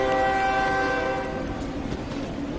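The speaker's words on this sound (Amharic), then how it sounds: "ባቡሩ እየሄደ እኮ ነው።" A train pulling away from a station, its horn sounding in a long sustained blast over a steady rumble of wheels and cars that holds loud throughout.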